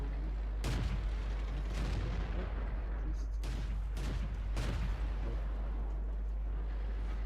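Repeated tank cannon shots in World of Tanks from a Durchbruchswagen 2, with several loud booming blasts spaced a second or two apart over steady rumbling background noise.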